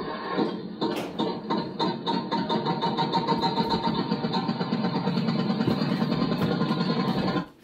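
An Aosom kids' ride-on toy tractor starting up, playing a loud, steady electronic engine-rumble sound effect with a rhythmic mechanical chug that runs continuously before cutting off at the end.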